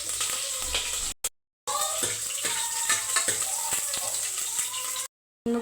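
Water is poured into a cooking pot for drumstick sambar, making a steady, close rushing splash that briefly cuts out twice before resuming.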